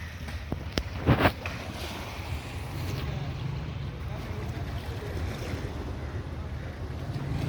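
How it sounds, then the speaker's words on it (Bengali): Sea tidal surge rolling in, a broad steady roar of waves and wind buffeting the microphone, with a brief louder thump near the start. "এটা তো সমুদ্রের জোয়ারের ধাক্কাটা ঢুকছে"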